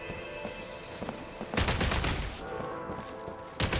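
In the video game Genshin Impact, explosives are shot and detonated: a loud burst of blasts and rapid gunfire erupts after quieter ambience, followed by another sharp explosion near the end, with no speech.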